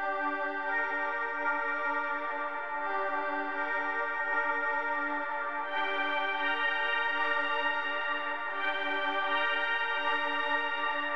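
Sustained synth pad from Flex in FL Studio playing a dark melody, a soft, continuous harmonic wash with slow chord changes and no bass or percussion, heard alone at low level.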